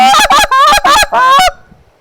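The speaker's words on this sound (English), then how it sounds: "So about 20 years ago they came out with the short reed goose call." A short reed goose call blown in loud, close honks, four clipped notes in a quick rhythm followed by a longer drawn honk, then quiet.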